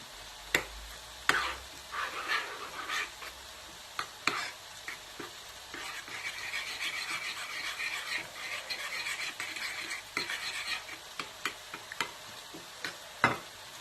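Vegetables and chopped coriander being stirred together for a vegetable lasagne, a steady scraping stir broken by sharp clicks and knocks of a utensil against the pot, close and fairly quiet, with no talking.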